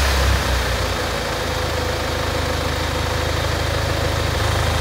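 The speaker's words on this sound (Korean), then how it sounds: "이번에는 디젤 차량 한번 시동을 걸어 보도록 할게요." A diesel Kia Carnival engine idles steadily after starting, a close, continuous low rumble with a constant mechanical clatter and no talking.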